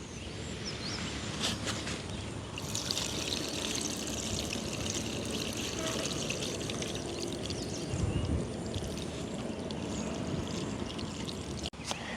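Water pours steadily off freshly washed green gram as it is drained, a continuous close splashing rush in an outdoor village setting with no talk.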